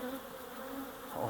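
Honey bees buzzing steadily around an open hive during honey harvesting, a dense continuous drone close by with no voices.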